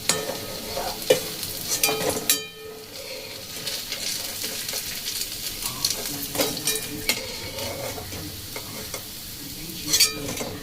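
Vegetable kofta balls frying in hot oil give a steady close sizzle, with stirring scrapes and a brief dip partway through before the frying resumes.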